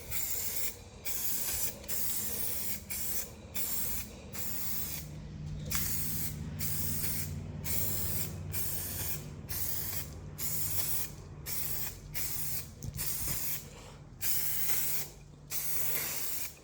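Bursts of aerosol spray hiss in a steady, repeated rhythm as a coating goes onto a 1:32 scale model layout, each spray separated by short gaps, close and moderately loud, with no talking.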